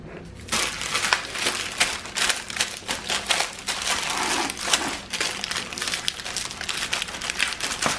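Peanut butter squares mixture is smashed and pressed into a tray, a dense run of crunchy, crackling presses and scrapes in quick irregular rhythm, close and fairly loud, with no talking.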